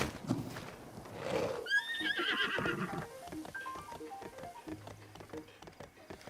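A horse in a video game gives a loud, rising whinny that breaks into a shaky neigh, then hooves clop in a quick irregular patter and quieter snorts follow, all heard without talk.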